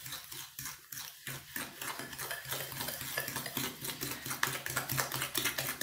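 Fast, steady clinking and scraping of a fork whisking batter in a bowl, continuous and close up with no talking.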